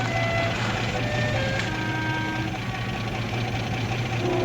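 Military vehicle engine running on a road in a wartime TV drama, a constant low idling drone with faint tonal whines above it, steady throughout without speech.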